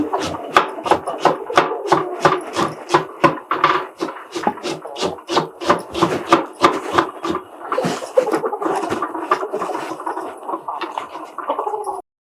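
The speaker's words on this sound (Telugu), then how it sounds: "సన్నగా తరిగి పెట్టుకుందాం." A knife chops a large onion finely on a wooden board for mutton kheema, in a fast steady run of close, crisp taps that continues throughout.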